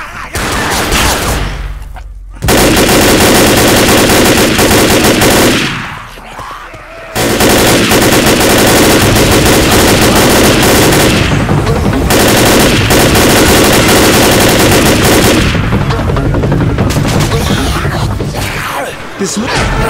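Dense automatic gunfire in the Left 4 Dead video game, loud and nearly continuous bursts with two brief gaps, mixed with game sounds and a voice talking over it.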